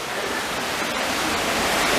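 A waterfall pours into a pool, a dense steady hiss of falling water heard up close and loud, unbroken for about two seconds, without talk.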